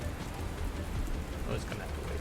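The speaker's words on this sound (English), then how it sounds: "That's quite a lot of rain." Heavy rain in the wasteland trading game Dustland Delivery pours as a dense, steady hiss across the whole stretch, with soft low rumbling beneath and no voice over it.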